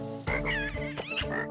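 Frog croaking from Crash Bandicoot 3 Warped: a few loud, warbling croaks in quick succession over steady game music, close and clear.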